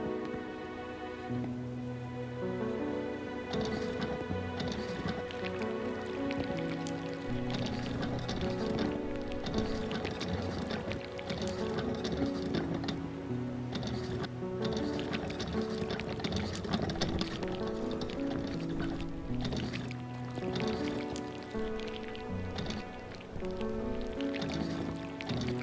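Concrete poured from a wheelbarrow in the Builder Simulator video game, a sloshing, gritty pour layered with a repeating musical soundtrack for about twenty-five seconds, with no talking.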